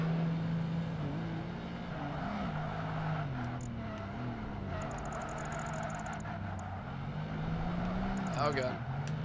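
Toyota MR2 Spider engine in the Project Gotham Racing 2 video game, a steady revving drone that rises and dips with gear changes, with a brief tire squeal near the end and a voice talking over it.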